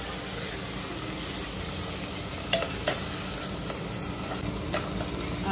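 Pumpkin pieces fry in ghee for kheer with a steady, even sizzle throughout, broken by a few faint clinks of a stirring spoon against the pan.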